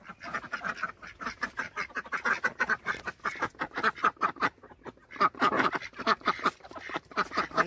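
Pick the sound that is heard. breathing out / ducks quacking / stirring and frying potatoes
ducks quacking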